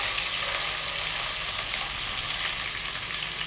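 Onion sizzles and fries in hot oil for a dal tempering, with mustard seeds, cumin, chana dal and garlic already in the pan, a steady dense crackling hiss with no talking.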